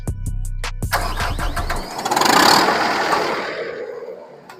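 A wood chipper's engine on a small crew truck cranks with a few sharp starter pulses, then catches and revs up into a loud rough roar that swells and gradually fades away.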